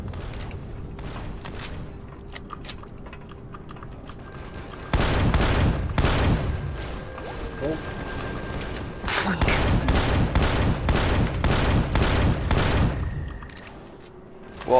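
Automatic gunfire in the co-op multiplayer survival game Empyrion Galactic Survival, with two long, loud rapid-fire bursts separated by a quieter stretch of scattered distant shots and ambient hum.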